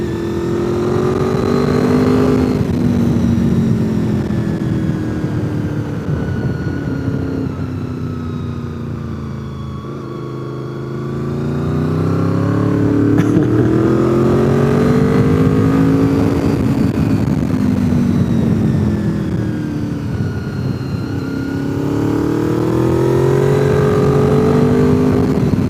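A 26-year-old Honda VFR motorcycle rides along a North Carolina road, its engine loud and continuous with rising and falling pitch as it accelerates and shifts, easing off briefly midway.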